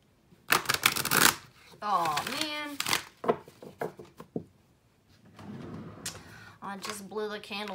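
Playing cards shuffled during a spirit-message tarot card reading, heard as brisk riffling bursts that come and go close to the microphone, broken up by someone talking in between.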